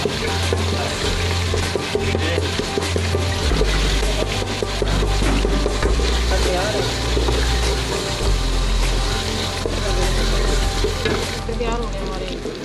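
Onions fry in a pan with a loud, continuous sizzle, with steady stirring and scraping throughout, close up.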